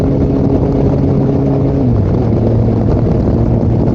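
Used Kawasaki Concours 14 motorcycle pulling hard under acceleration, a loud, close, continuous engine roar with a steady droning pitch that shifts slightly lower partway through, heard alone without talk.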